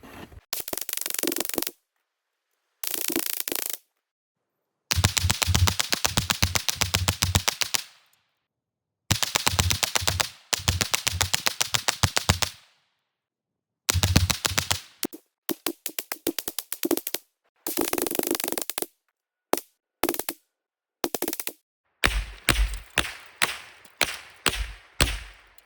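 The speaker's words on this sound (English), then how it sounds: "We're gonna see how long it'll keep shooting this way." A Ruger 10/22 rifle fires long strings of rapid, sharp shots at close range, aimed at a refrigerator, in bursts broken by silent pauses, with a few slower single shots near the end.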